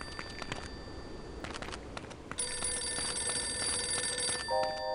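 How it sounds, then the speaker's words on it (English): A loud telephone rings in the 2000 first-person shooter The Operative: No One Lives Forever, a sustained bright electronic bell tone cutting in after quieter game ambience and ending with a short beeping pattern. "Oh shit, that's a loud phone."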